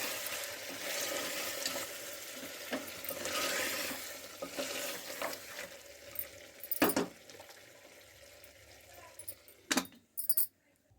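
Beef coated in biryani masala is stirred gently in a pot, with soft scraping and light sizzling under a continuous frying hiss, followed by a few sharper metallic clinks near the end.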